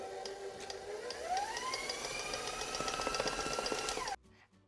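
An electric mixer whirs through muffin batter, its motor pitch climbing as the speed is cranked up, running steadily with faint clicks of beaters against the bowl before shutting off suddenly.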